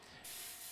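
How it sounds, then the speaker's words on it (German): Airbrush spraying transparent black paint to darken a shaded area: a soft, faint, steady hiss that starts abruptly and holds for under a second. "Ich sprühe mit transparentem Schwarz diesen Schattenbereich nochmal ein bisschen dunkel."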